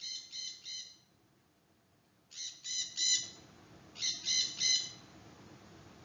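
A parrot's recorded calls: a pair of harsh, repeated squawk series, each a quick run of three or four loud screeches, separated by a short quiet gap, heard alone without any voices.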